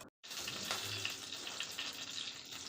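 Mustard, cumin and coriander seeds fry in hot oil in a pan, giving a soft, steady sizzle that follows a brief silence, with no talking.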